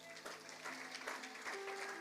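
Congregation applauding in a church, a steady wash of clapping across the room with a sustained tone beneath it.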